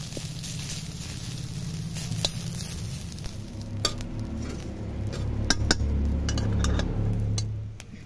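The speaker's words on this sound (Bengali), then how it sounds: "এবারে কড়াইতে ভালো করে সর্ষের তেল গরম করে পাতাগুলো এবারে ভেজে নেওয়া হচ্ছে" Leaves fry in hot mustard oil in a wok, giving a continuous sizzle. Utensils clink and scrape against the pan as the leaves are stirred. No one speaks.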